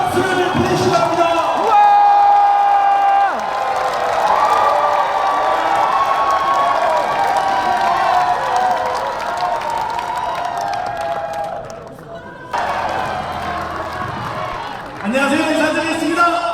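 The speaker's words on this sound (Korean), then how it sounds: "다시 한번 이재명 대표께 뜨거운 박수를 보내주시기 바랍니다." An audience at a Democratic Party concert in Gwangju applauds and cheers loudly in a sustained wash of clapping and shouting, briefly fading before surging again, with amplified voices and tonal sound mixed in.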